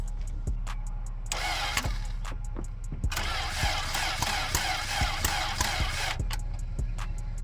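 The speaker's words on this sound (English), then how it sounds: "See if we can turn it over." A car engine cranking repeatedly without catching, a rhythmic whirring starter chug in several bursts with clicks between, close and loud.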